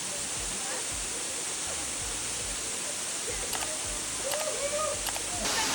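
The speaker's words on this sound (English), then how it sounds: "This waterfall is relatively easy to reach as long as you can scale up and down some steps." Steady, loud roar of a waterfall in Bali, a broad continuous rush of falling water with faint bird calls and brief voices over it.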